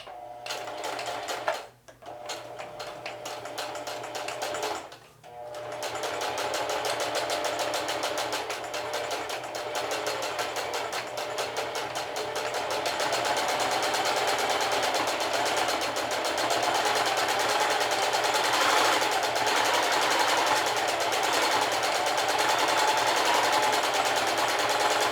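A sewing machine runs in steady continuous bursts while edge stitching a belt loop, starting briefly, pausing twice in the first few seconds, then whirring on without a break at close range.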